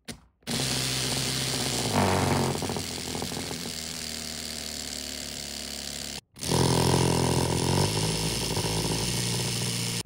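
A homemade CO2-powered engine fitted with a flywheel runs with a loud, continuous buzzing rattle. It cuts out briefly partway through, then starts again just as strongly.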